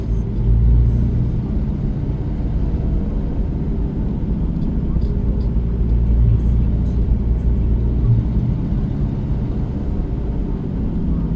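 Inside a car driving through heavy city traffic on Kalayaan Avenue: a steady, loud low engine and road rumble with a constant hum throughout, no clear talk.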